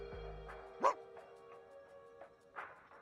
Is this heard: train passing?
no